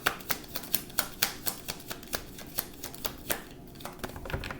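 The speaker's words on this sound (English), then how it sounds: "I'm going to shuffle the cards" Tarot cards being shuffled by hand, a run of crisp, evenly spaced riffling snaps close to the microphone with a brief soft pause near the end and no talking.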